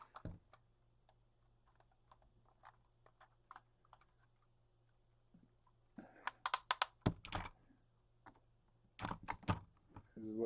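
Legs of a Lego Soundwave figure being folded produce sparse light plastic ticks at first, then denser clusters of sharp clicks and clacks, close and quiet, with a faint low hum underneath.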